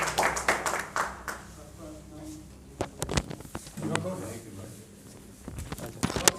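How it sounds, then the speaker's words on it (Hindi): Scattered clapping from an audience at a Hindi-speaking community gathering comes in bursts of claps and shuffling. Someone talks over it throughout. "ताली बजाते रहो जी, आज तालियों में कंजूसी न करें।"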